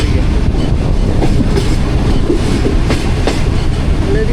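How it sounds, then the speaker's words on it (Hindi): Rawal Express passenger train from Lahore to Rawalpindi rolling out of a station, a loud continuous rumble with rhythmic wheel clatter over rail joints, heard close from on board. "हमारी ट्रेन का भी डिपार्चर मिसल हो गया और मूव हो रही है हमारी ट्रेन भी"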